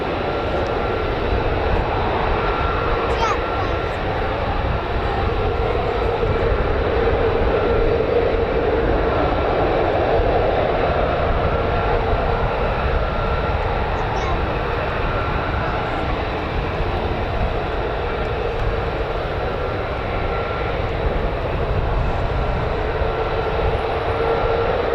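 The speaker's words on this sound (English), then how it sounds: "F-15's just starting up now." USAF F-15 fighter jets start up at RAF Lakenheath, giving off a broad, steady turbine roar with a high whine that holds evenly throughout and no clear breaks.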